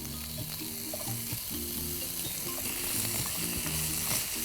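Thinly sliced potatoes fry in a pan with onion and capsicum for a vegetable frittata, giving a steady close sizzle with faint stirring clinks throughout, no voices.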